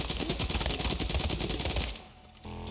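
Rapid automatic gunfire in the video game Days Gone, a fast evenly spaced burst of loud shots lasting about two seconds before cutting off.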